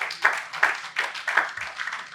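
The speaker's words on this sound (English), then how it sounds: "Let's give him a round of applause." Several sharp claps in a loose rhythm, close and moderately loud, like a small burst of applause with no voices.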